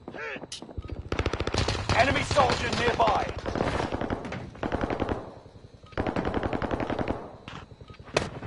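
Rapid machine-gun bursts ring out close and loud in a video game, in several long strings separated by short pauses. Brief bits of voice chatter can be heard between the shots.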